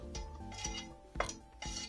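Minced meat being stirred into hot onions in a pan, heard as a few distinct scraping and clattering strokes of a utensil against the pan, close and fairly quiet.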